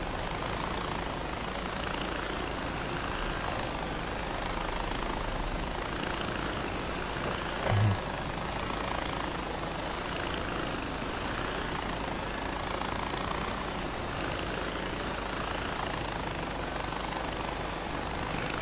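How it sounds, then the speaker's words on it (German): A helicopter in Far Cry 4 flies on with a continuous, steady rotor and engine drone, even and moderately loud throughout, with no talk over it. "Schade, dass ich nicht überall landen kann mit diesem Helikopter."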